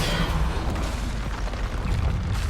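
A Bombarda spell blast in the video game Hogwarts Legacy, a loud, dense booming explosion that rumbles continuously for a couple of seconds with no speech.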